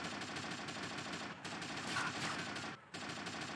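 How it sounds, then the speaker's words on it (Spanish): Gunfire in GTA Vice City Definitive Edition, rapid automatic shots rattling in a steady rhythm for several seconds with one brief pause, fairly quiet in the mix. "Y ahora disparan."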